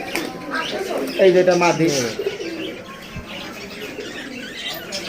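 A pair of red-necked Giribaz pigeons coo and warble nearby in a brief, lively burst. Someone talks over the birds, and then a quieter background murmur follows.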